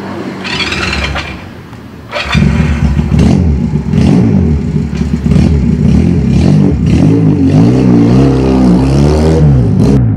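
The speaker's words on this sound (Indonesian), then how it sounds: "Benelli Patagonia Eagle ini. Suaranya itu loh, adem bener." A Benelli Patagonian Eagle 250 cruiser motorcycle pulls away and accelerates while being ridden, its loud, deep engine note close and steady with rising and falling revs through gear changes.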